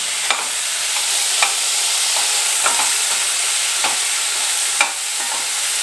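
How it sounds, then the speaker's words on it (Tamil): Dried red chillies fry in a pan, a steady close sizzle with a few sharp scraping stirs spaced through it. "நல்ல கலர் மாறுற வரையும் நம்ம வறுக்கணும்"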